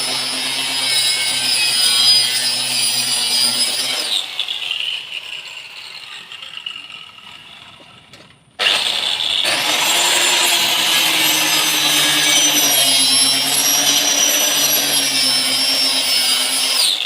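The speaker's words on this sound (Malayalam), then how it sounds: "അപ്പോൾ ഇനി നമുക്ക് ഈ ഒരു അരിക്ക് നമുക്ക് മട്ടത്തിന് കട്ട് ചെയ്യാം." Saw cutting the edge of a wooden cupboard board square, a steady loud rasping drone that pauses briefly midway, drops out near eight seconds, then resumes at full strength until the end; no talking.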